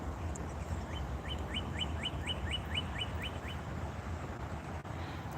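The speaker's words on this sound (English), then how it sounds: "Where's the alarm clock bird?" A small bird gives a quick run of about nine evenly spaced, rising chirps against a steady background hum, then falls silent.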